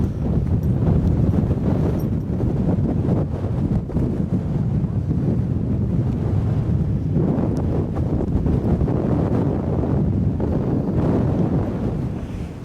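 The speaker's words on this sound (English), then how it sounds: "the wind's quite strong at this point" Strong gusting wind buffets the microphone on Crowden Tower on Kinder Scout in the Peak District, a loud, continuous roar that swells and eases in waves, with no voice heard.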